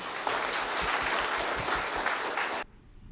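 Warm audience applause welcomes a speaker at a lecture, a dense wash of many hands clapping steadily for over two seconds before cutting off abruptly into quiet room tone.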